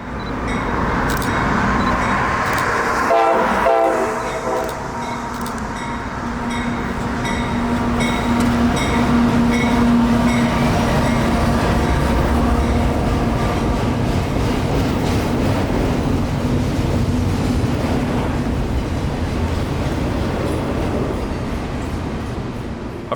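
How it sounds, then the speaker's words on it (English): CSX freight train I-177 rolls steadily past at close range, a long continuous rumble of wheels and cars with a brief horn blast early on, holding loud throughout before easing slightly at the end. "This is that same train they stopped up in Ocala to let the office car train get around them"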